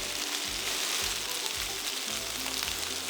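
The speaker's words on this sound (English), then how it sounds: "When we are frying the spices, we are actually blooming the spices." Star anise, cinnamon, cardamom, cloves and the white parts of spring onions fry in hot oil, giving a steady, close, crackling sizzle with a few soft stirring scrapes.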